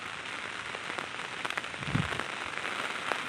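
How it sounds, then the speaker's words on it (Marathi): Torrential monsoon rain in rural Konkan hisses densely and evenly up close, with scattered heavier drops spattering through the steady wash and no voices. "मुसळधार पाऊस"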